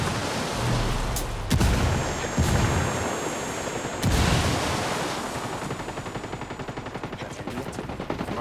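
Gunfire in the video game Ghost Recon Wildlands at a desert outpost, with several loud, sharp shots and bursts over a constant hiss of background noise that trails off into steady rumble.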